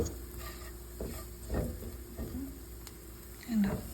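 Turmeric and salt stirred into a frying mix in a pan, with soft scrapes and taps at irregular intervals over a low sizzle and a faint steady hum.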